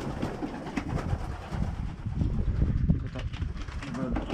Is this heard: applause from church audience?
no